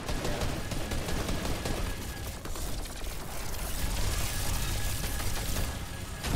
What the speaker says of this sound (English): The fucking miniguns are so good.